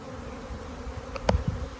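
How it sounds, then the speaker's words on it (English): A swarming honey bee colony, one of several swarms on a good swarming day, buzzes steadily at low level, with a couple of brief closer clicks or knocks near the end and no talking. "So that's Slee-Bee Hollow now swarming."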